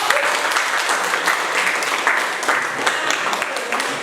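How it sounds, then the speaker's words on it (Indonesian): Classroom applause for all the student discussion groups, a full, even burst of many hands clapping that carries on for about four seconds at a strong, steady level. "Kita beri aplaus dulu untuk semua kelompok."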